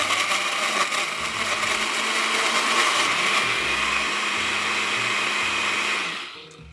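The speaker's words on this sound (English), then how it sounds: "We'll just set that on the blender and we're going to give this thing a whirl." A blender mixing a strawberry margarita runs steadily at high speed, loud and whirring with a rattling churn, then winds down and stops at the end.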